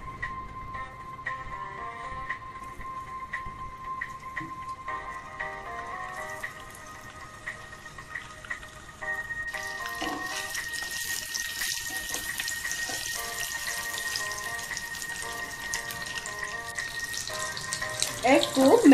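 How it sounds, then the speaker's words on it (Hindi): Eggs frying in oil in a kadai over a low flame, a continuous sizzling hiss that grows louder and denser partway through, with faint tonal background sounds and no clear talk. "एग को मैंने अच्छे से फ्राई कर लिया है।"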